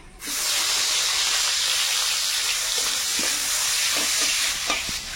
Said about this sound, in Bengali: তেলের মধ্যে দেবো পেঁয়াজ কুচি